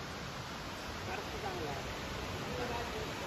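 A continuous, even rush of a waterfall, soft and distant, with no breaks or changes throughout.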